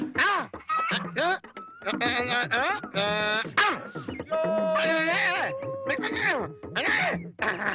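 A voice imitates chickens clucking and squawking in a rapid, close, animated string of bursts during a comedy scene, with wavering cackles and short pauses between calls.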